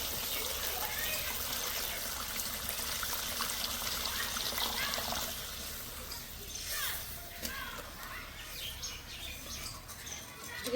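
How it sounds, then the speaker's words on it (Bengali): Water poured into fried, oil-releasing masala in a pan for a spicy rohu fish curry, a steady broadband trickle and sizzle that softens partway through, with faint chirps in the background. "এবার জল দিয়ে দেব।"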